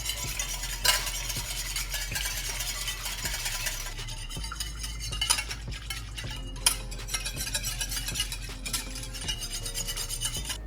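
Eggs and cinnamon whisked in a bowl, the whisk rattling in a steady rapid scraping rhythm, close and moderately loud, with no voices.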